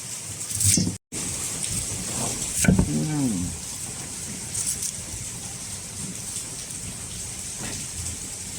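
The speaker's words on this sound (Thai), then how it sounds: "ฝนตก บรรยากาศฝนตกนะพี่น้องภาคไหนตกกันเด้" Steady rain falls outdoors as a dense, constant hiss with a faint rumble of distant thunder. A voice speaks briefly under it.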